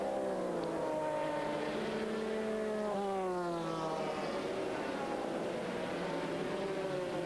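A number 67 Porsche 911 endurance race car in a 2000 American Le Mans Series race passes with a distant engine howl whose pitch rises and falls through gear changes, mixed with other cars at the racetrack.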